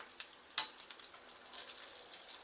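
Homemade chicken sausages sizzle in a pan, a steady bright crackle of frying with a few sharper pops, close and fairly quiet, with no voices.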